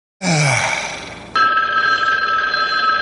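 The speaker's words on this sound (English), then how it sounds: "a phone ringing noise apparently from the 1977 movie Slapshot" A telephone rings in a sample from the 1977 movie Slapshot, a loud bright electric bell ring starting abruptly and shifting tone midway, continuing alone without talk.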